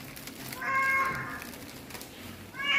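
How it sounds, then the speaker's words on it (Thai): A cat meows softly a couple of times indoors, one drawn-out call followed later by the start of another, against quiet room noise. "อันนี้แมวของหมอกวาง"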